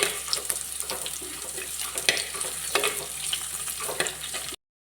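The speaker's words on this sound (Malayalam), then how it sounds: "ഇതിലിട്ടൊന്ന് വഴറ്റിയെടുക്കാം." Ingredients with soaked kudampuli sautéing in a pan for Kerala-style fish curry, giving a steady close sizzle broken by scattered clicks and scrapes of stirring, with no voices.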